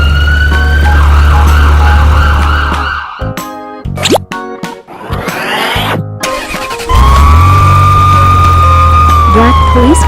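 A white ambulance siren sounds loudly over a deep engine rumble, broken midway by clattering, whooshing effects before a steady siren tone resumes.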